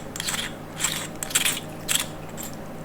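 Plastic battery compartment of a BOYA lavalier microphone being unscrewed by hand, a few short close-up ratcheting clicks and scrapes in quick bursts against a quiet background.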